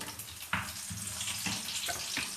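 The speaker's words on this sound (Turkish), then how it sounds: "Burada da biberim kavruluyor." Steady sizzling and crackling of peppers roasting in a hot pan, with occasional stirring clinks, close and continuous.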